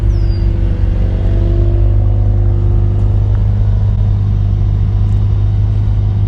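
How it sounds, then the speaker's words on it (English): A 2020 Mercedes-AMG CLA 35 idles after a cold start, a steady, loud, close engine drone with a deep low hum and no revving. "Go listen to the engine."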